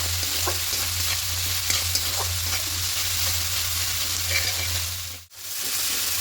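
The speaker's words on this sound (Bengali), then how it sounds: "খুব ভালো করে এটাকে মিশিয়ে নেব এইভাবে একটু কষিয়ে নেবো" Katla fish masala with cumin and turmeric powder sautés in a pan, a steady close sizzle with repeated spatula scrapes while the spices are stirred in, alone without talk.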